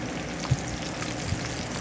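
Soft, continuous sizzling and crackling of thick bacon frying in a pan over medium heat, with a couple of faint pops, heard alone and close.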